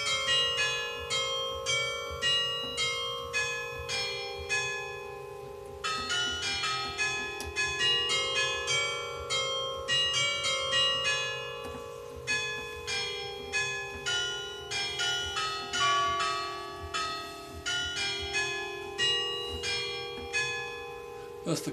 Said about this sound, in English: in Belgium, the carillon is very much more complex than the English chimes of Westminster.